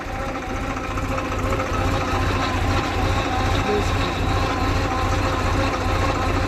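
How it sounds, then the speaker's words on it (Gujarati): A Sonalika tractor engine chugs steadily at low revs while driving a water pump, a loud, close, even rumble with a regular knocking pulse throughout. "સૌરાજ ટ્રેક્ટર છે ને સાવ નોર્મલ રેસમાં ચાલે છે."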